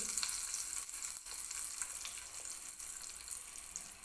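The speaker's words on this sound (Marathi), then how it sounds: "हा तयार केलेला तडका आता मी हे आपण चटणी बनवण्यासाठी खोबरं बारीक केलं त्याच्यामध्ये टाकून घेते" Hot tempering with curry leaves poured into ground coconut for chutney, giving a steady hissing sizzle that stays close and even throughout, with no talking.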